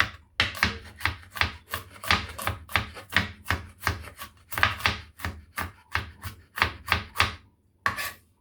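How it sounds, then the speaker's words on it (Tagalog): Knife chopping garlic on a cutting board, close and crisp, a quick regular run of sharp chops with a couple of brief pauses. "Maghiwa na tayo ng bawang at saka luya."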